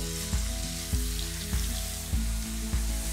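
Washed, dried potatoes frying in hot oil give off a steady crackling sizzle, with soft stirring knocks at regular intervals of about half a second and no voices.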